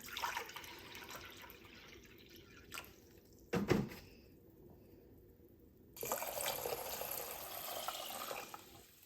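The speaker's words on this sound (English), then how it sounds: "2 cups of that distilled water. And I'm only starting with 2 because that's all that fits in my little measuring cup here" Distilled water pours from a small measuring cup into a pot for elderberry syrup, a soft quiet trickle with a brief louder splash midway, then a steadier stream of pouring toward the end.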